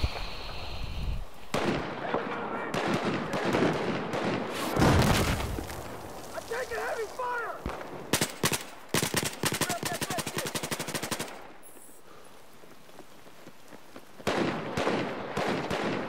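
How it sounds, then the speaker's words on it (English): Rapid automatic gunfire in Battlefield 4, with a shooter firing from a rooftop: dense bursts of shots and booms crackle in quick succession, loud and close, broken by brief pauses, with a voice talking between the bursts. "Someone's freaking rapid fire up on top of the roof"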